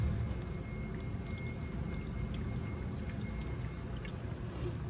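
Coolant drains from the radiator of a Venom x22GT 250cc automatic motorcycle in a steady, faint pour with occasional drips under a constant low background rumble.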